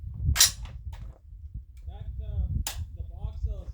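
A Kodiak Defense WK 180C Gen 2 air rifle fires two sharp, close cracks about two seconds apart, with brief voiced exclamations between and after the shots.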